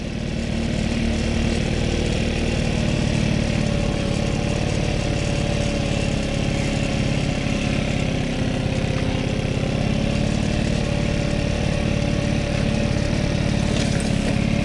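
A tuned enduro scooter's small engine runs continuously at higher throttle, a loud, close, steady buzzing drone with no pauses.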